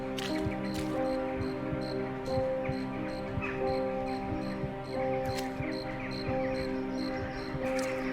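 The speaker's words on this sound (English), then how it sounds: "A lot of crows fleeing from bad weather, maybe?" Many crows caw repeatedly in a video game forest, sharp calls scattered throughout over a steady droning ambient wind bed, with rustling underneath and no talk.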